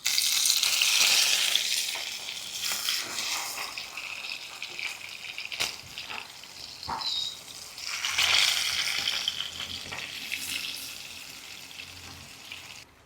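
King fish (neymeen pollichathu) frying in a pan is turned over: a steady close sizzle with a couple of sharp clacks from the flip, the crackle easing off toward the end.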